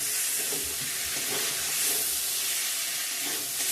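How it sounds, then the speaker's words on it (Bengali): Hot water is poured into spice paste fried in oil for an egg curry with peas and potatoes. A loud, steady hiss and sizzle fills the whole stretch, close and continuous, with no talking. "ভালো করে মশলাটা কষানো হয়ে গেছে বন্ধুরা দেখতেই পাচ্ছ গরম জল দিয়ে নেবো এখন"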